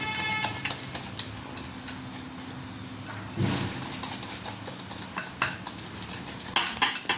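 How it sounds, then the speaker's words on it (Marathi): Sugar and ghee beaten together in a bowl for homemade biscuits, a quick run of close clinks and scrapes as a utensil works the mixture against the bowl. "अशा पद्धतीने हे पूर्ण मिक्स करून घ्यायचं आहे आपल्याला, फेटून पूर्ण एकजीव"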